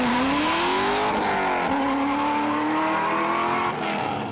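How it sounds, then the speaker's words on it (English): A Chevrolet C5 Corvette launching hard from a dead stop produces loud, uneven rear tire screeching with wheel hop. The wavering squeal shudders and shifts pitch over a continuous engine roar. "the sound of uneven tire screeching coming from the rear of the car when you really get on it from a dead"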